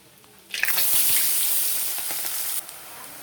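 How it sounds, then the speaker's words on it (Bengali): Chopped onion dropped into hot oil in a pan with bay leaf bursts into a loud sizzle that settles into a steady hiss before easing off, close by with no voices. "এবার কুচনো পেঁয়াজ দিয়ে দেবো।"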